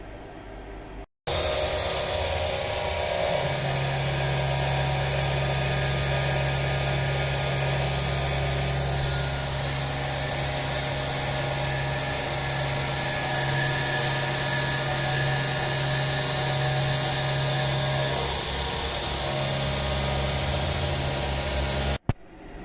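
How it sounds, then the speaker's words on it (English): DIY CNC machine running its largest finishing tool on a fifth-axis trunnion build, with a steady, loud broadband whir and a sustained low tone that holds for about twenty seconds before stopping abruptly. "It's the biggest tool I ever run in the machine."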